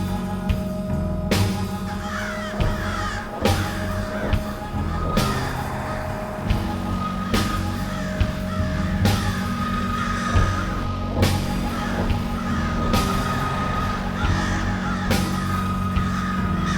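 Ravens cawing from the trees, harsh calls repeating every second or so at moderate distance over a constant low background hum.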